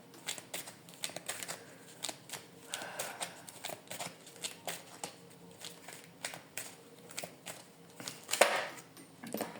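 Tarot cards shuffled by hand in a quiet room, a steady run of soft papery riffles and flicks with a sharper slap near the end as cards spill and fall.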